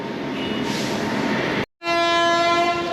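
A train rolls into Nabadwip Dham station during the Ras festival, a loud rumbling rush that cuts out briefly and then returns with a sustained tonal horn blast over the clatter.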